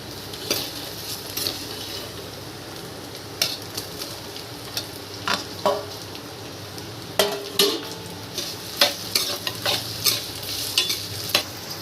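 Tomatoes go into softened onions in a hot pan for a brinjal kara kulambu, a faint steady sizzle under repeated sharp scrapes and clinks of a spoon stirring against the metal pan.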